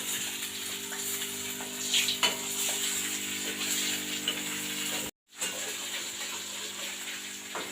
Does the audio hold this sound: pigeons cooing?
no